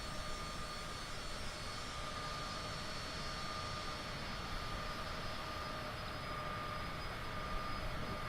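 CJ4 business jet cruising in Microsoft Flight Simulator 2020, a steady, even engine hum and whine that holds constant and moderately faint throughout with no voices.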